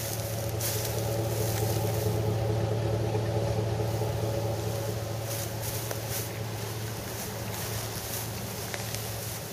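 A very quiet vehicle engine runs steadily, giving an even, continuous low hum with some wind noise and no breaks.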